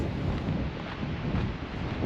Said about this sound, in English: it's a little windy and the wind would make you cold